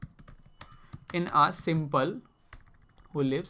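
Typing on a computer keyboard, quick irregular clicks of keys heard close up through most of the stretch, mixed with someone speaking over it.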